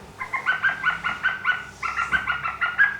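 Wooden bird whistle imitating a blackbird, blown in quick repeated warbling phrases, two clear runs of bright fluttering notes, close and alone.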